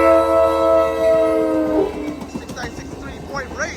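Amtrak San Joaquin train 716, with F59PHI locomotive 6963 Point Reyes, passes close and loud with a sustained horn-like tone, then a rhythmic rattle of wheels, and a voice speaks over the tail of it.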